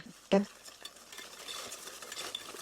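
Whole eggs being stirred in a pan with a utensil, a sharp clink of metal against the pan at the start followed by a steady, soft scraping and swishing, close and moderately quiet.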